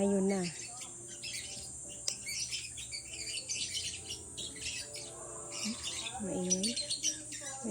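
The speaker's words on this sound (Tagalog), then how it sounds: "Maingay yung mga ibon." Noisy birds squawk and chirp near a fruit garden in a dense, continuous chorus of harsh calls and quick tweets, with louder squawks standing out now and then. A voice speaks faintly underneath.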